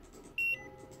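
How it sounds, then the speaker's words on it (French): A single short electronic beep sounds when a button is pressed in the horror game Metel, a clean steady tone with no one talking. "Genre quand t'appuies, ça me fait bip."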